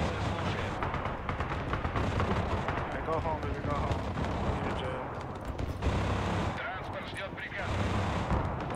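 Artillery fire in the video game Broken Arrow, a dense, continuous rumble of booming blasts and gunfire running throughout, loud and layered, with players talking over it at times.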